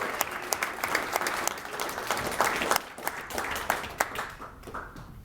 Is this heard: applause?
yes